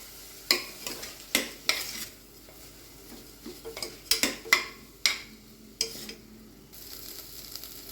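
Washed rice is stirred and toasted in a pan, with a series of sharp scraping and clinking strokes of a spoon against the metal over a faint sizzle, close and alone.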